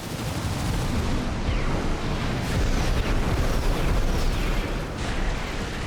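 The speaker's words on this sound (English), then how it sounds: "those siege missiles are a pain" Siege missile explosions in Armored Core VI mech combat, a dense, loud, continuous roar of booms and bursts overlapping across several seconds with no clear gaps.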